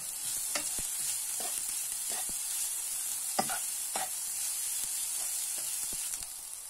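Pumpkin fried rice being stir-fried, with a soft steady sizzle and a few scattered spatula scrapes against the pan, fairly quiet and close.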